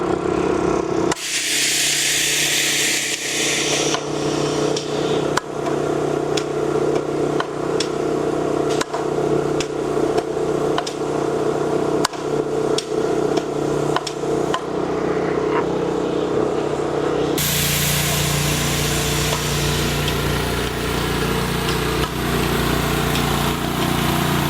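Graco LineLazer V 200HS line striper spraying lines, its engine droning steadily and loudly throughout with a hissing spray and repeated clicks, the tone shifting partway through.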